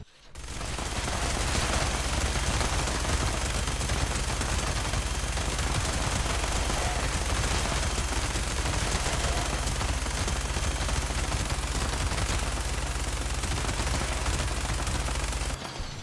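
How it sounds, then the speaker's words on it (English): A minigun with exploding bullets in the video game Fallout 76 fires in one unbroken, loud, dense stream of rapid shots and blasts, lasting about fifteen seconds before stopping abruptly. "I have for you a double ammo capacity minigun with bullets explode for area damage"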